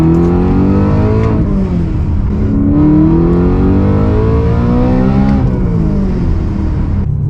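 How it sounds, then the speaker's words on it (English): Loud and close, a supercharged BMW M3 accelerates under boost, its engine note climbing and dropping through repeated revs in a continuous aggressive roar with no talking. "Oh my lord, this car's loud."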